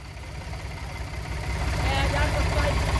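A small tractor engine runs steadily at idle, its low, even rumble holding throughout with a slight rise in intensity toward the end, close by.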